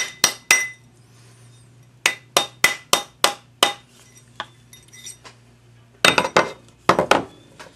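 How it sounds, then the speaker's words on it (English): A twin-shank adjustable metal ring is hammered and bent, giving sharp, bright metallic clinks in quick irregular bursts, some strikes closely spaced and others more isolated, close up with no talk. "So a little bit of judicious hammering and bending."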